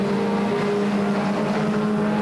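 Pure stock race cars roaring around Flamboro Speedway, a loud, steady, dense engine drone from the pack with no voices, heard close and constant.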